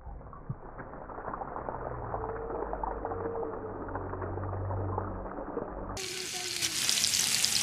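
Oil frying in a pan, a low continuous sizzle and bubbling hiss at moderate level, turning brighter and harsher near the end.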